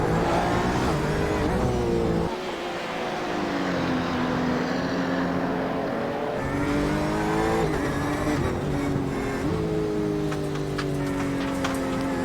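Race car engines from a GTE sports car field lapping the Okayama circuit in a sim racing game, loud continuous droning with rising and falling pitch as cars accelerate, shift and brake, several engines layered together.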